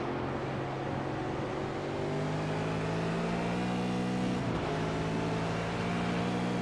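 V8 Supercars sim racing car lapping Phillip Island in a video game, a steady engine drone whose pitch climbs and shifts as it accelerates through gears, continuous and fairly close, with no talk.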